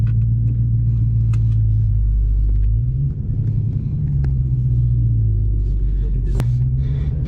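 A low, heavy engine rumble from a 2020 Mustang GT500 and a 2019 twin-turbo GT350 at a drag race, idling steadily with a brief rise around the middle while people talk nearby.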